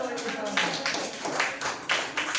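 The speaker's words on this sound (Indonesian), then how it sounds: "Tepuk tangan dulu." Children at an elementary school event clap together in rhythmic bursts, several loud rounds of group clapping with chatter and voices underneath.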